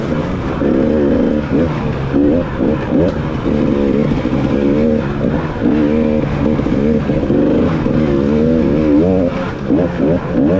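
Dirt bike engine roaring loud and close during a hare scramble race, a steady revving drone that holds throughout with slight rises and falls as the rider blasts past.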